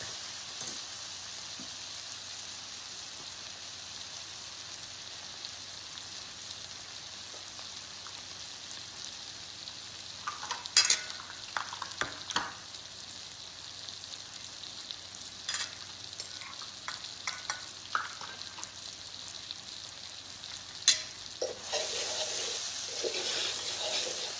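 Shrimp sizzle softly in butter and garlic in a frying pan, a quiet, continuous crackle with occasional louder pops and stirring clicks, no voices.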